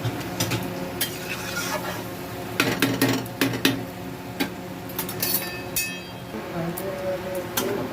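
Mutton is stirred and fried in a pan on the stove, with a steady sizzle under repeated metallic scrapes and clinks of a spoon against the pan, close up.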